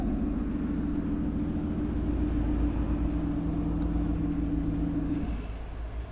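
A car idles with a low, steady exhaust burble at the Aston Martin works in Newport Pagnell, a constant droning hum that holds for about five seconds before easing off.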